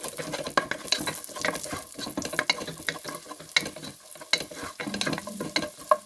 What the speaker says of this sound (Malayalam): ആദ്യം അണ്ടിപ്പരിപ്പ് ഇട്ട് കൊടുക്കട്ടെ നെയ്യിലേക്ക്